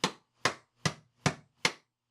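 A hammer drives a razor blade into the seam of a Rubik's Clock puzzle: five sharp, evenly spaced taps, each a crisp, close knock that fades quickly.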